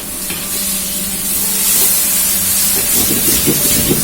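Eggplant and green beans stir-fry in a hot wok with a loud, steady hiss and sizzle, while quick scraping stirs come through near the end.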